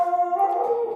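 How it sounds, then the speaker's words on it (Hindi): Dogs outside give a single sustained, wavering howl-like bark, steady and fairly loud, tapering off at the end with no voices over it. "कुत्ते भौंक रहे हैं बाहर"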